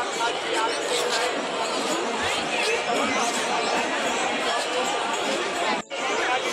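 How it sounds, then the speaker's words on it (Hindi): Dense crowd chatter fills a packed riverside ghat at Har Ki Pauri in Haridwar during the Janmashtami Ganga aarti, many voices merging into a steady, loud babble with a brief dip near the end. "ये देखो कितनी भीड़ है"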